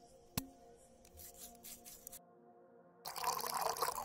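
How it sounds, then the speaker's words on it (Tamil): A drink poured into a glass during a friends' celebration, with a short liquid trickle and faint clinks, a brief pause, then a louder bubbling pour at the end. Close and fairly quiet. "மச்சான் அதை எடுத்து ஊத்துடா."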